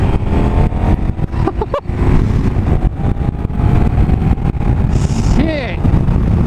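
A KTM Super Adventure S motorcycle accelerates hard, its loud engine roaring close and continuous with rising revs and gear changes, under heavy wind rush, with a voice heard over it.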